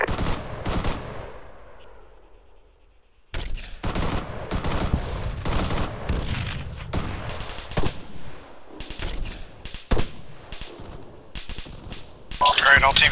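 Gunfire in the military video game Arma 3: repeated sharp shots and automatic bursts at irregular intervals, with a brief lull early on, mixed with voices talking over the shooting.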